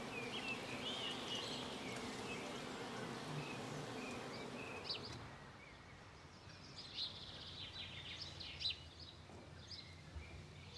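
A newly captured swarm of wild bees in the Black Forest hums with a dense, continuous buzz, heaviest at first and then thinning to a softer drone, with occasional bird chirps in the background.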